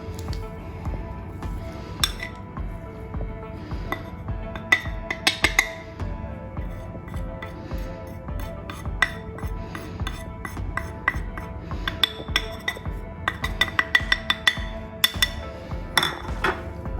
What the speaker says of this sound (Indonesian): ini kita campur si gum atau pengentalnya ke dalam gliserin